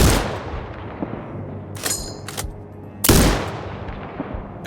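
Sniper rifle shots boom in the video game Sniper Ghost Warrior Contracts 2, two loud sharp blasts with long echoing tails, the second heavier, separated by brief quieter stretches.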